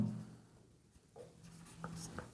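Writing on a board during a geography lesson on Indian tribes: a few faint, short scratchy strokes that come close together, with quiet room tone and no clear talk.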